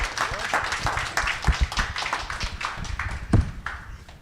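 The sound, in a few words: audience applause for panel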